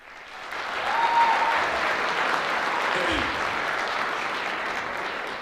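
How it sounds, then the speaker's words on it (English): A crowd at a high school Hall of Fame induction assembly applauds loudly, the clapping rising quickly and staying full and steady for several seconds, with a few voices faintly audible within it. "let's hear a big round of applause for them"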